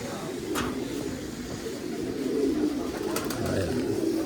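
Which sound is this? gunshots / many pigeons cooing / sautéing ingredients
many pigeons cooing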